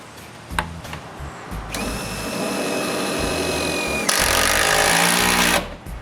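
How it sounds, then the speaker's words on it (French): A power screwdriver drives screws through metal roof mouldings on a workshop roof. There are short bursts, then two longer whirring runs, with the motor's whine rising as each screw bites into the sheet metal. "il ne reste plus qu'à visser les moulures au toit"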